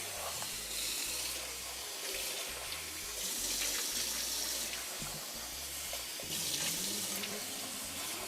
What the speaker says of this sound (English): So I'm just gonna give it a quick rinse.